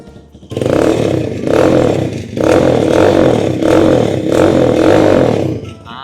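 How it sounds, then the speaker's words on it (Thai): A 2018 Stallion Makina 250 motorcycle fires up and settles into a loud, close exhaust idle that pulses with repeated blips of the throttle, its rough rumble steady throughout. "สตาร์ทง่ายๆ เลยนะท่อนุ่มๆ"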